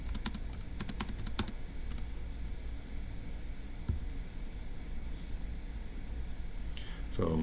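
Keys tapped on a computer keyboard while entering numbers for a Turing Machine logic puzzle: a quick cluster of close, crisp clicks at the start, a single tap later on, then quiet room tone.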